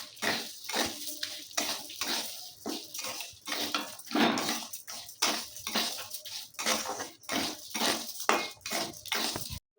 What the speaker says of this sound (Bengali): একটু হালকা নাড়াচাড়া করে নিতে হবে চালটা।